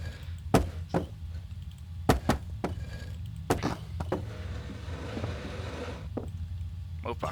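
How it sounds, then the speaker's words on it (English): In the horror game Penumbra: Overture, a door is closed with several hard knocking thuds and bangs. The impacts come irregularly over a continuous low rumble, and there is occasional faint talk. "Go ahead and close this door."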